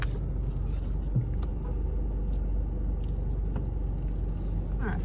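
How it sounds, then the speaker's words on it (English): A car drives past on a rough road through a residential development near San Juan del Sur, Nicaragua, its steady engine rumble and tyre noise filling the clip at close range with no talk. "let me let this car go by."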